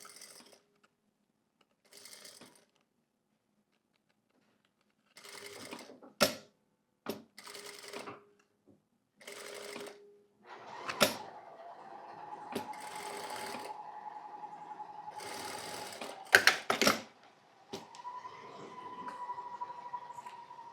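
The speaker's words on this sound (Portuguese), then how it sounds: "só vai costurando aqui em toda a sua volta" A sewing machine stitches bias tape around the edge of fabric in short, quiet bursts with pauses between, then runs in longer steady whirring stretches; a soft voice speaks intermittently.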